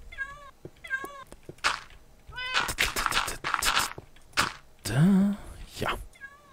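A Minecraft cat gives a string of short, close meows in quick bursts, with a longer, rising wail near the end, while someone talks in between.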